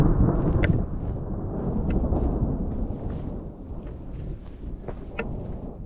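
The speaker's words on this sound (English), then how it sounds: "So we got a storm moving in." Thunder from an approaching storm at Palo Duro Canyon rolls as a low continuous rumble, heavy and steady against wind buffeting the microphone, with faint scattered ticks of rain or debris and no talk.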